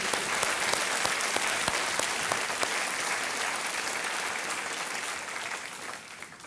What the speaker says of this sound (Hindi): आपके लिए हम ताली बजाना चाहेंगे